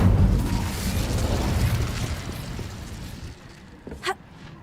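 Incendio fire spell cast in the video game Hogwarts Legacy, a loud rushing, roaring burst that fades over several seconds, followed by a brief sharp pop.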